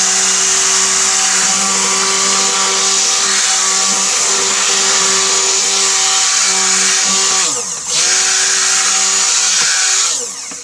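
A blender runs steadily, mixing a soap base of extra virgin olive oil, coconut oil, tallow and cocoa butter. The motor hum is loud and close, with brief dips in pitch as the load shifts near the end.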